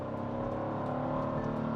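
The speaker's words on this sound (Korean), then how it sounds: "기어를 낮춰서 한번 RPM을 쭉 높여보면" A Genesis GV80 Coupe engine revs in a low gear, its exhaust note droning steadily and loudly as heard from inside the cabin, with no one speaking.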